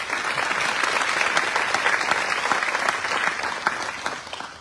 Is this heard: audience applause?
yes